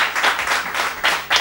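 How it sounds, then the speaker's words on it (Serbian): An audience breaks into applause for a guest on a talk show, with short bursts of dense clapping rising and falling across a brief moment. "Olja Ivanjicki, aplauz, molim vas, veliko poštovanje."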